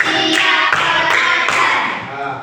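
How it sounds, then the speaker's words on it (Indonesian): Children in a classroom clapping in unison on a teacher's count, four sharp group claps spaced evenly under a loud room. "Tepuk 2, tepuk 3, tepuk 4, tepuk 5."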